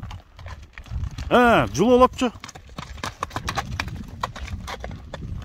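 A horse's hooves clip-clop in an uneven series of sharp knocks on hard ground, near and fairly loud, while someone speaks and a short melodic vocal sound rises over them.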